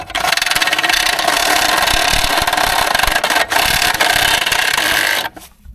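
A utility knife cuts into the floor material of an Opel Vivaro van with a loud, close, continuous rasping scrape for several seconds, ending abruptly.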